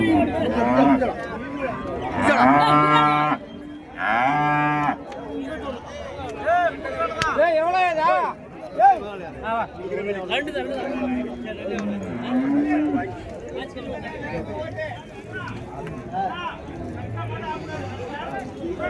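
Bulls at the Uthangarai cattle market low and moo repeatedly over a busy crowd, with people talking nearby throughout.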